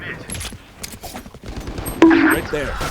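A sergeant fires off a quick burst of sharp, loud gunshots in rapid succession, with voices talking around the shots.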